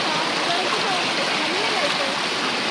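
A swollen village river flowing past, a broad, steady rushing wash of water with no pauses, close and fairly loud throughout.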